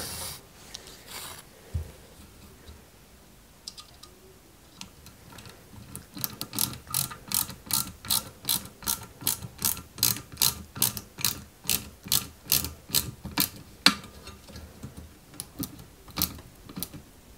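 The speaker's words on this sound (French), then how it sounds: "Et juste au-dessus, on vient y mettre deux vis YM." Small screws are turned in by hand on a 1/8-scale 2003 Subaru Impreza WRC model kit, producing a steady run of close, crisp ratcheting clicks in an even rhythm with no talking.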